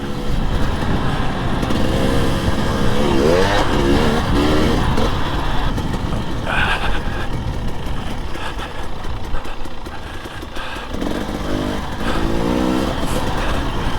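A KTM 300 XC-W TPI two-stroke dirt bike engine revs loudly and close, with rising and falling throttle blips over a constant buzzing drone, and no talk.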